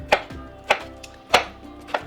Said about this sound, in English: So the next thing I wanna do is just take chunks of my pineapple